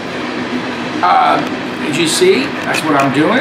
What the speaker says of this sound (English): sorry about the background noise. The train's coming through